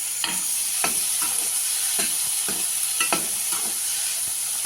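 Three chopped tomatoes fry with browned onions in a pan for masala pav, a steady soft sizzle broken by repeated scraping stir strokes roughly every half second, close and alone.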